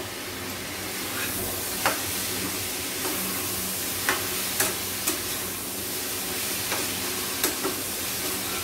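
Chopped tomatoes sizzle and hiss in a hot frying pan with garam masala, being stirred for a diabetic-friendly lunch; a steady close frying crackle with occasional sharp scrapes and clicks of the spoon against the pan.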